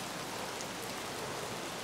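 Steady rain falls throughout the Escape from Tarkov game world, a dense, even hiss of drops on surfaces with no pauses or gusts across the short stretch.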